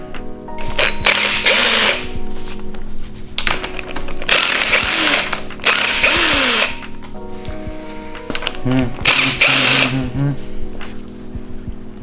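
Hand ratchet turning bolts while the thermostat housing comes off a Nissan S13 engine during a rebuild, steady mechanical clicking in several close bursts with brief pauses between them.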